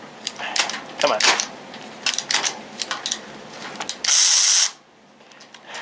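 An Avid Power 12V 3/8-inch cordless ratchet wrench during a torque test: irregular mechanical clicks and clacks, then a brief loud whirring burst from the motor before it stops.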